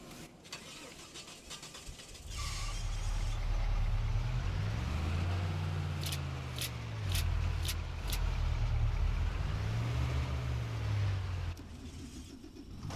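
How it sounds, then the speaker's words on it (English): A truck engine in the video game Farming Simulator 25 starts up and drives off, its low engine note rising and falling steadily for several seconds before dropping away, with faint ambient farm sounds around it. "I have to move our truck out the way though."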